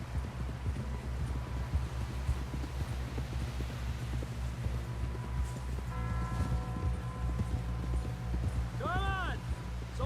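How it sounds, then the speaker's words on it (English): Horse hooves clip-clopping in Red Dead Redemption 2, a steady rhythmic trot close by over a low ambient bed, with a brief whinny near the end and a voice talking. "Someone help John down off this horse."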